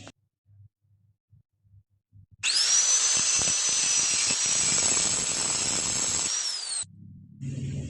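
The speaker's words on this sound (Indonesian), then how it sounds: "Ini kita gerinda, kita bentuk agak ngerucut supaya nanti agak mudah dimasukkan." An angle grinder shapes the tip of a metal radiator repair pin into a cone, a loud continuous high whine lasting about four seconds with a pitch drop at the end, preceded and followed by soft handling noises.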